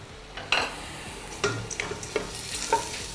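Olive oil going into a cooking pan for spaghetti bolognese, followed by a handful of short clinks and scrapes with a soft sizzle underneath, close and alone.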